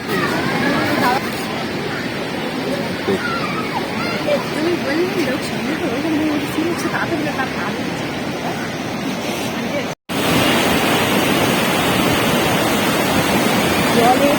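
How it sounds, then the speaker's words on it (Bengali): A fast-flowing mountain stream near Manali rushes in a loud, continuous roar up close, steady throughout apart from one brief cut. "জলের ধারাটা শুধু একবার দেখো, জলের স্পিডটা দেখো একবার"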